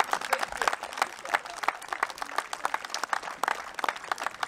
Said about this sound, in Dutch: Dames en heren, voor haar even een heel,